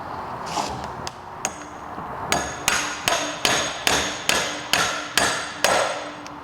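Steady hammer blows drive a 19mm socket onto a Vespa P200 engine with Malossi cases, about a dozen sharp metallic strikes in an even rhythm, close and clear with no talk.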